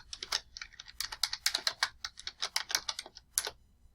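Rapid typing on a computer keyboard, a quick run of close, crisp key clicks with short gaps, fairly quiet and alone.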